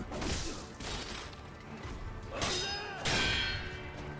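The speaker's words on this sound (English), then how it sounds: "it's that little goblin's ringing that bell" A small goblin rings an alarm bell in the video game Sekiro, giving a few loud metallic clangs and crashing hits at uneven intervals with ringing tails, alone without talk.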